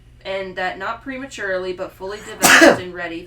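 A single sharp sneeze bursts out loudly near the end of a reading voice, breaking into otherwise steady speech.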